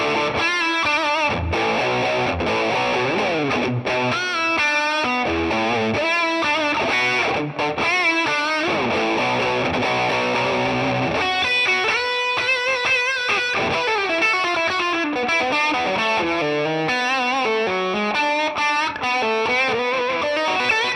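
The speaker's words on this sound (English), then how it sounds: "on the bridge pickup, this is just the kind of classic distortion tone" A Gibson Les Paul electric guitar on its bridge pickup plays a driven lead through a classic distortion tone, loud and continuous, with sustained bent notes and quick phrases and no talking.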